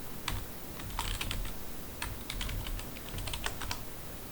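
Rapid, steady typing on a computer keyboard while entering a MongoDB query, with clear close key clicks in irregular bursts and no talking.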